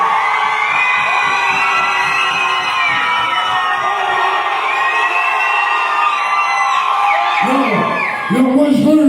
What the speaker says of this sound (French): vous criez comme si on était 1200 personnes